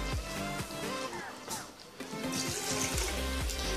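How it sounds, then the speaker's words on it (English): About two cups of water poured into a pot of chicken vegetable stew with potatoes, a steady splashing trickle with gurgling bursts, moderately close beneath faint background hum. "So we just add in around 2 cups of water."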